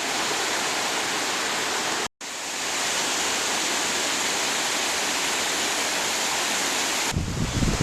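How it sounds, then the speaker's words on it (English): Rushing water pours in a dense, steady hiss, loud and close, with a brief cut partway through before the flow resumes. "So this is the creek at Daniel's Cove."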